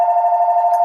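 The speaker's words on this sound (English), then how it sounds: "So my phone rang, like just now it rang." A phone rings at home with a steady electronic ringtone tone, loud, close and continuous for just under a second, with no talking over it.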